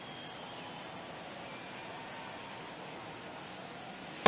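Steady rain pours onto the field during a baseball video game, a continuous even hiss filling the scene throughout with no breaks.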